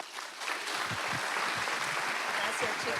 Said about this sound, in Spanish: Les recibimos con un fuerte aplauso.